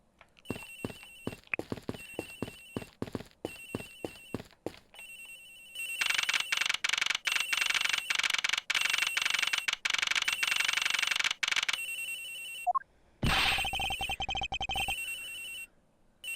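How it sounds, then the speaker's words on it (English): A phone rings in a detective video game, a steady electronic ringtone pulsing at first, then growing louder and continuous, with a brief interruption and a burst of other game sound near the end. "Ringing's coming from somewhere in here, sir."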